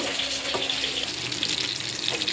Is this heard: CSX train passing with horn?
no